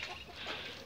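Rooster among poultry in a farmyard where chickens, ducks, geese, guinea fowl and peafowl are kept, giving soft clucking calls close by over steady yard noise, with no crow.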